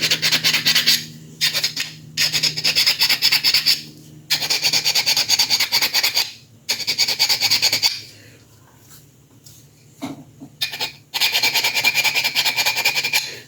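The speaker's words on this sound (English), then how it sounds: "Since it fits well, I'm going to scuff up this" Abrasive scuffing on the peg of a 1/6 scale Predator figure before epoxying: close, rhythmic rasping strokes in several bursts of a second or two, separated by short quiet pauses.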